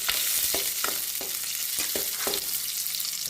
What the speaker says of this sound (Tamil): வெங்காயம் போட்டுக்கலாம் நல்லா கிளறி விட்டுக்கலாம்